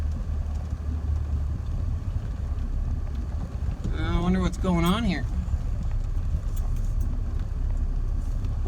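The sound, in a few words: Yamaha quad engine on sand trail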